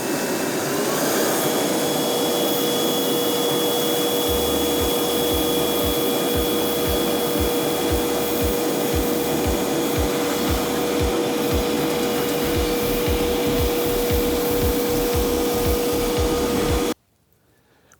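A Flex 24V cordless vacuum runs on speed 2, sucking up sawdust with a loud, steady whine and rushing airflow that flutters in rapid pulses. It stops abruptly near the end.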